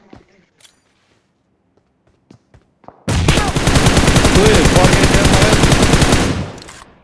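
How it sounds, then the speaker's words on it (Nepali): Gunfire in the battle-royale game PUBG Mobile: after a few scattered pops, a sustained rapid burst of automatic weapon fire hammers loudly for about three seconds, with brief player voices before it. "मैले नि पड्काइदिएँ त्यसलाई"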